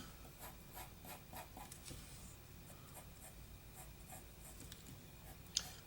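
A pencil sketches an oval on paper in quick, close strokes, a faint rhythmic scratching that repeats about twice a second, with a sharper tap near the end and no voice.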